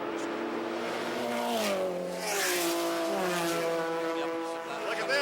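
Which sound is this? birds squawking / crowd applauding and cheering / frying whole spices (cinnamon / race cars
race cars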